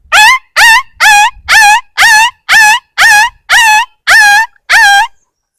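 A man imitates a puppy's whimpering, giving ten evenly spaced, loud, whiny yelps with a rising-and-falling pitch, each about a third of a second long, then falling silent.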